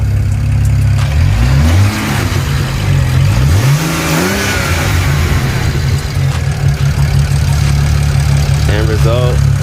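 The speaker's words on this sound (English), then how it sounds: "Rev it up, dude." A BMW 335i fitted with a VRSF chargepipe revs loudly up and down several times over a steady idle, the engine rising and falling in repeated bursts close by, with people talking over it.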